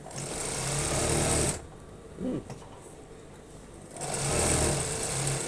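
Sewing machine stitching interlining into a shirt collar, loud steady mechanical whirring in two runs with a quieter pause between, no talk.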